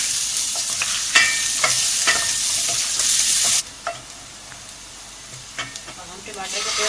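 Onions sizzling in a hot pan for chicken lasagna, a loud steady hiss broken by scraping stirs and clinks of a spoon, then the frying drops abruptly quieter partway through with occasional taps continuing.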